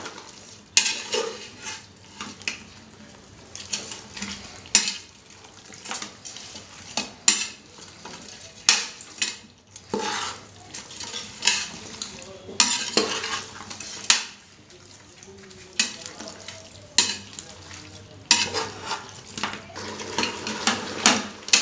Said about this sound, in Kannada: ಇದನ್ನು ಚೆನ್ನಾಗಿ ತಿರುಗಿಸ್ಕೋಬೇಕು